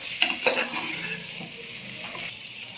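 A spoon stirs ground coriander and masala powder into hot oil for mushroom pulao, with a few quick scraping clanks at the start over a soft, steady sizzle, close and fairly quiet.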